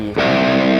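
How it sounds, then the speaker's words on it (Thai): A Jackson JS32TQ Dinky electric guitar with distortion, in drop C tuning with 11-gauge strings, struck once after a brief pause and ringing on as a loud, sustained chord. "เดี๋ยวลองเสียงแตกนะครับ"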